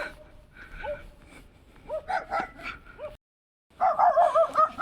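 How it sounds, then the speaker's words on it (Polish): A dog yips and barks in short, high bursts, pausing briefly before a louder, more insistent run of barking. "Psy szczekają"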